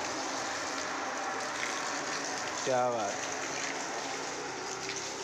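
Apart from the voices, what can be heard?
water being poured onto trees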